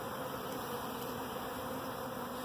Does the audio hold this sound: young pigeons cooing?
no